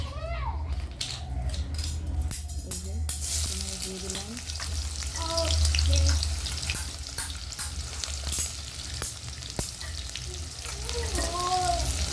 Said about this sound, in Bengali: এবার পেঁয়াজগুলো ভেজে দেবো ভেজে নেবো মাংসের পেঁয়াজ